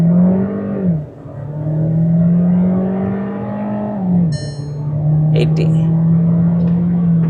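A Skoda Kushaq 2026 facelift Monte Carlo pulls hard from a standstill at full throttle, its engine droning loud and close as it rises, drops briefly at a gear change, then climbs again, with a voice talking over it.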